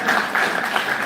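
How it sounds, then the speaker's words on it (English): Crowd at an anti-corruption conference keeps clapping for a departing CEO, a brief dense patter of many hands at an even level. "Keep clapping until he exits the door."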